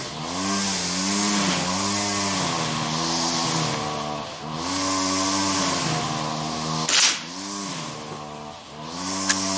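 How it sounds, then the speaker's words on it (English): A Crosman 1322 pump air pistol is pumped up over and over, giving a steady run of about eight rising-and-falling strained, droning strokes, each lasting roughly a second, close and fairly loud. "so let's pump her up"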